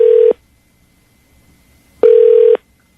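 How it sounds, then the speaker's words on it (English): Two short electronic telephone ring bursts separated by a pause of silence, loud and close, typical ringback tone on a line. "it's ringing."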